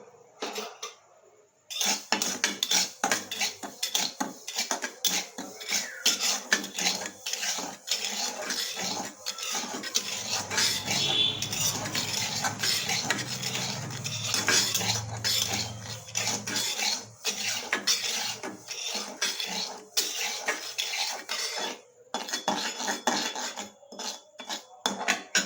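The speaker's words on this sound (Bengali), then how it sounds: "নুনটাকে ভাজা ভাজা করে নেব।" Dry salt being roasted in a pan for a dried mango pickle, a spoon scraping and stirring with continuous metallic clinks and gritty rasping, close and steady throughout with no talk.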